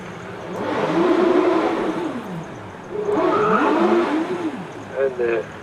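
A turbocharged Gould hillclimb race car accelerates up the course at Doune, engine note climbing and dropping through quick gear changes, moderately distant, under a commentator talking.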